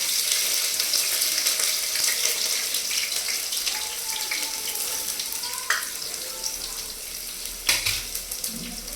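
Ginger and garlic fry in hot oil for veg Hakka noodles, a steady close sizzle with light stirring scrapes and a couple of brief clinks.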